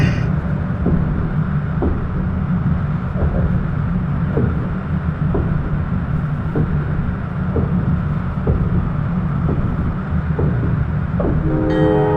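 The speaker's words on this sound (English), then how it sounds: "I'm going to sound the horn for this" Amtrak Northeast Regional train running at speed on the New York to Washington line, a loud steady rumble with rhythmic rail clicks, and a horn blast at the very start and again near the end.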